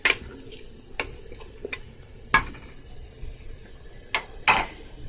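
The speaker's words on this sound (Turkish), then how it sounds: "Hepsini bir şekilde karıştırıyoruz." A spoon scrapes and knocks around a pressure cooker as meat and peas are stirred: irregular, close strokes with occasional clinks, and no voices.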